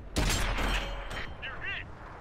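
A tank cannon in a video game fires on a target: a loud, broad blast that rings for about a second, then fades into a few short, warbling chirps.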